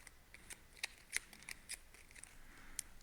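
Board game cards for ISS Vanguard being shuffled, giving faint, quick papery flicks and snaps at an irregular pace over a quiet background, with no talking.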